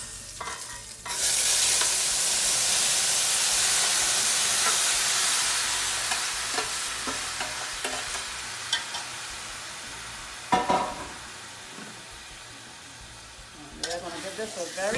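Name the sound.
oxtail being added and stirred in a sizzling pot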